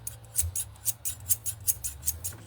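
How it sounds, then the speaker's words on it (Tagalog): A large pair of scissors snips in quick succession during a self-haircut, about a dozen crisp, close metallic cuts in an even rhythm, heard alone without talk. "Laki ng ating gunting ngayon."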